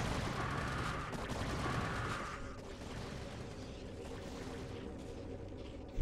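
Cannons fire in a sped-up StarCraft team battle against Zerglings and Hydralisks, a dense stream of overlapping blasts and crackling impacts that are loud at first and then settle into a steady rumble of combat.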